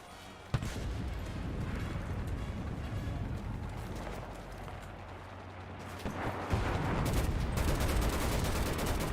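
A DTM machine gun fires in Enlisted in a Battle of Berlin match, with sustained loud bursts over a constant din of battle and a second heavy burst near the end.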